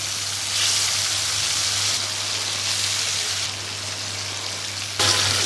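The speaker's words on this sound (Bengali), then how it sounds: "চিকেনগুলো খুব সুন্দর করে ভেজে নিচ্ছি" Chicken pieces deep frying in oil give off a continuous bright sizzling hiss, holding steady with slight swells and a louder burst near the end, over a low steady hum with no talking.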